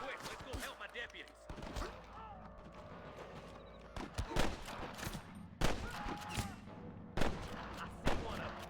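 Gunfire in the video game Red Dead Redemption, several sharp shots in an irregular volley mixed with hoofbeats and other game sounds, with voices speaking now and then.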